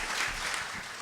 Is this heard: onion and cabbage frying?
no